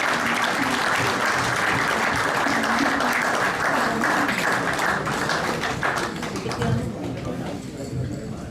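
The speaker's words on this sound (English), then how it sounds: "Give them a big round of applause" A banquet crowd at a masters cricket event claps for a team called up for a photo, loud sustained applause with some voices mixed in, thinning slightly toward the end.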